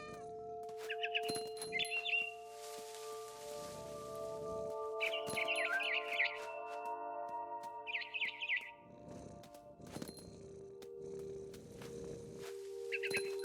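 A cat meows repeatedly in the video game What Remains of Edith Finch, several clear mid-pitched meows spaced through the scene, mixed with brief bird chirps and low game ambience.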